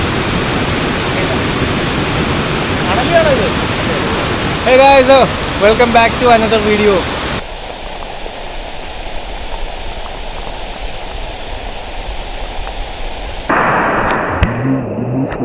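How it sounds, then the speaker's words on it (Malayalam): Forest stream at Agasthyarkoodam swollen into a flash flood after heavy rain, a loud unbroken rushing roar close by, with someone speaking briefly over it partway through. "ഈ അരുവി ഇപ്പൊ നമുക്ക് പോകാൻ പറ്റാത്ത രീതിക്ക് വെള്ളമായി"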